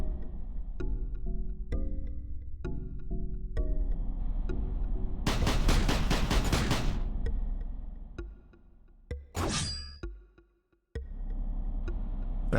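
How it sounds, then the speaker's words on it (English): Shooting and sword-slashing effects in the video game Loplight: a series of sharp ticking shots, then a long dense burst of rapid fire, a quick rising swoosh, and a sudden cut to silence before the game's background resumes. "We can dash, shoot, and slash."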